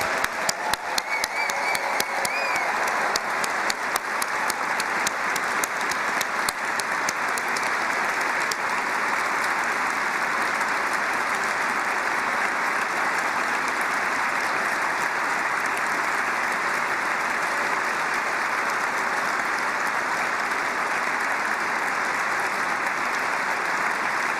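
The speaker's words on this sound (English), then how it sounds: "I think you deserve another big round of applause" A large crowd at a York St John University graduation ceremony gives the graduates a long, steady round of applause, dense and even throughout with no voices rising above it.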